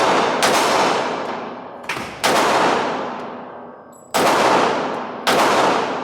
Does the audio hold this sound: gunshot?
yes